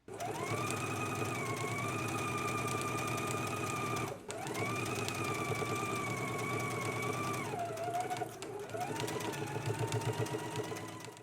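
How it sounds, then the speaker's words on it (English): A sewing machine stitches a 5/8 inch seam along the lower band of a jacket, a steady close whirring hum that runs in long bursts, pausing briefly between them, with no one talking. "let's go ahead and stitch in a 5/8 of an inch seam allowance"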